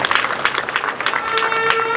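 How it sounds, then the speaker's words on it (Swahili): An audience at a radiology building inauguration in Makorora claps together, a loud patter of applause that carries on steadily, mixed with a voice and crowd murmur. "Naomba tumpigie makofi sana."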